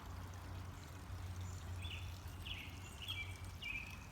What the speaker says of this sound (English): There's a water feature